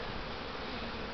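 Honey bees buzz densely at an open hive during an inspection, a close, continuous hum with no pauses.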